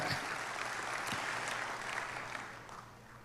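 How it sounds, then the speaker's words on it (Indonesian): A church congregation gives sustained applause during a sermon, a faint, even wash of many hands heard from a distance that slowly tapers off toward the end. "Tepuk tangan buat Tuhan kita yang luar biasa."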